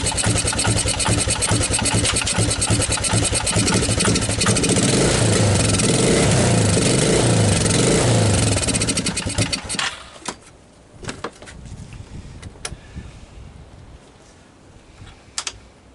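A Suzuki Quadrunner LT230 shaft-drive ATV engine runs loud and close with a dense, steady roar for several seconds, then drops to a quieter idle punctuated by sharp clicks and knocks.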